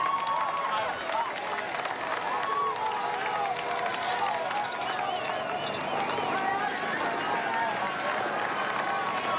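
A dense roadside crowd cheers and applauds continuously as riders pass during Stage 1 of the 2014 Tour de France, a loud, sustained wash of voices with a commentator talking over it.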